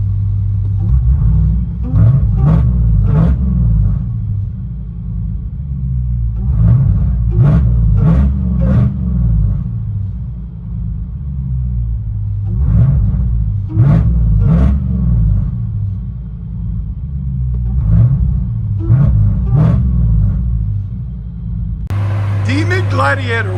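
Deep, rumbling V8 exhaust from a Demon-swapped Jeep Gladiator with headers and valves open, revving in repeated bursts with a steady burbling idle between them, loud and close.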